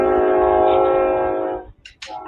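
A train horn blares with a steady, loud harmonic chord for about a second and a half, then cuts off, followed by brief noisy bursts; no speech over it.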